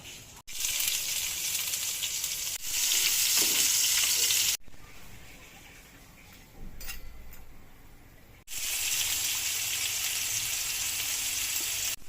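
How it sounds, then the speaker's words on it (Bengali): Sliced onions fry in hot oil for beresta, a crispy fried-onion garnish, giving a loud, steady sizzle that drops off briefly and returns, with faint stirring and utensil clinks and no speech. "এখন পেঁয়াজ বেস্তা করে নেব"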